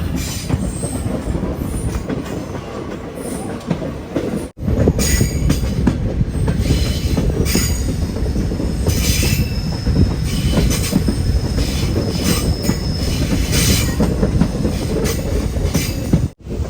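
Madurai–Guruvayur Express pulling into Edamon railway station in Kerala, a loud, steady roar of rolling coaches with wheels squealing and clattering, filling the whole stretch without a break except for one brief dip.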